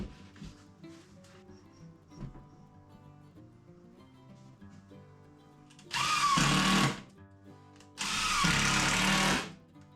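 A power drill drives screws into a ceiling-hung shelf in two loud, steady whirring bursts of about a second each, with quieter background sounds between them.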